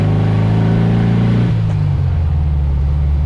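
A Volkswagen Beetle's 1300 engine revs steadily with a low droning rumble, then the pitch drops and settles into a lower idle-like hum, close and loud.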